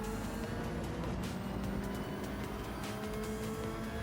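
Race cars, including a Supra GT500 and an NSX, running down a back straight in Gran Turismo 7, a steady loud engine drone that holds constant and close for the whole stretch, with no talking.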